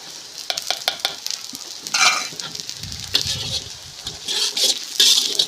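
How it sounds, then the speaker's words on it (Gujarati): Chopped cabbage tossed into oil with fried onions, sizzling and hissing while a spoon stirs and scrapes the pan in repeated bursts, close and fairly loud. "આને આપણે થોડીક ફ્રાય કરી લઈશું જેવી તેવી તેલમાં"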